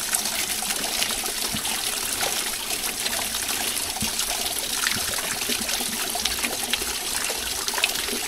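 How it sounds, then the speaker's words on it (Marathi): Clear stream water trickles and babbles steadily over rocks on the Naneghat trail, an ancient trade pass in Maharashtra, a close, continuous rushing wash with small splashy bursts throughout and no voices. "वाहतं पाणी आहे."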